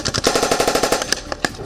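Rapid bursts of automatic gunfire from Ukrainian soldiers' live-fire training, including firing from a raised platform, crackle in a steady loud rhythm of close repeated shots with no voices.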